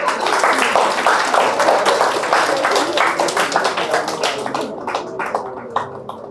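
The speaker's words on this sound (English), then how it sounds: "Please clap for both of them." Dense applause from a workshop audience on data structures and algorithms, many hands clapping fast and loud, close and continuous before thinning slightly toward the end.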